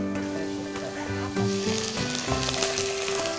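Water poured into a pan of sautéing garlic and carrots in an Indonesian warung kitchen hisses and sizzles steadily, with faint tonal sounds in the background.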